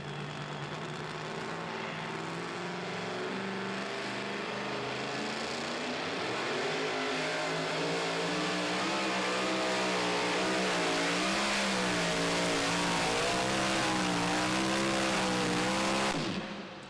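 A Chevy super modified two-wheel-drive pulling truck at a truck pull, engine roaring loudly and climbing in pitch as it strains down the track, sustained and wavering for most of the run before cutting off abruptly near the end.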